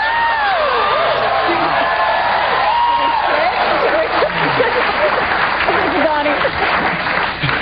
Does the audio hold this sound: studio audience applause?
yes